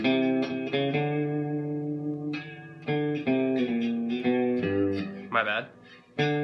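Electric guitar with distortion and effects plays a riff, a series of sustained chords and sliding notes with bends, loud and close, alone without talk.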